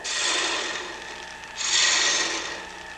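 An old bowl gouge hollowing the inside of a small wooden ornament on a spinning lathe makes a continuous close, loud rasping shave that briefly eases then swells brighter, with no voices.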